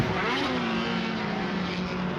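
Saloon race cars in the MRF Challenge 2018 powering through a turn, loud close engine roar with rising and falling revs over a couple of seconds.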